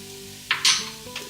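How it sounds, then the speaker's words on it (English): A spoon stirs pinches of cayenne and oregano into a sizzling pan, giving two short scraping bursts and a longer hiss over a steady background, close and fairly loud, with no talking. "we're just gonna stir that in"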